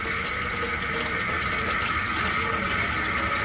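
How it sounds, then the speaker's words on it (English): Tap water runs steadily into a bathroom sink while a face is rinsed under it, a continuous close splashing gush with no talking. "you want to pat your face dry after you rinse it under the sink"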